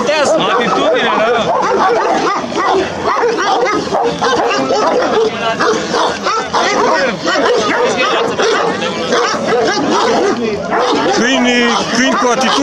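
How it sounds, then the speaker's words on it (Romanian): Two huge Romanian Carpathian shepherd dogs fighting at a dog show in Bran, with loud continuous barking, yelping and snarling up close, while people shout and talk excitedly over the scuffle throughout. "Câini cu atitudine."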